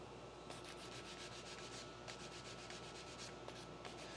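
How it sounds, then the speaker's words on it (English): A hand file rasps across a wooden gun stock to blend in tool marks, making repeated back-and-forth scraping strokes in a steady rhythm at a quiet, close level. "So we use a little file to blend it in."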